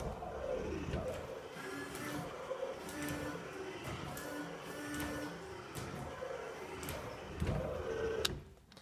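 Windshield washer sprayer motor running on a Lamborghini Countach replica under restoration in a garage, a quiet mechanical whir and buzz with rhythmic clicks, ending in a sharp click.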